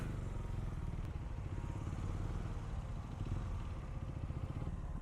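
A KTM 390 Duke Gen 2 single-cylinder motorcycle engine drones steadily while riding, a constant throbbing, buzzy rumble with road and wind noise, heard close and continuous.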